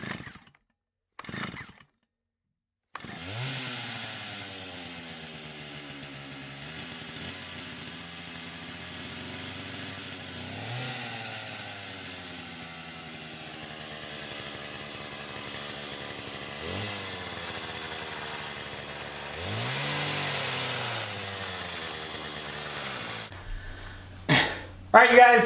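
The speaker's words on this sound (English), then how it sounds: "I'm gonna strategically sand it in areas to kind of give it that worn look" A power sander distresses an antique china hutch, running as a steady motor whine for about twenty seconds. Its pitch dips and rises repeatedly as the pad presses into the wood, then it cuts off.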